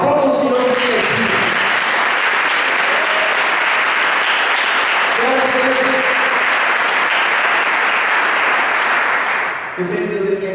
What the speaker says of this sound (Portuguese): Aplauda o Senhor que tem aqui.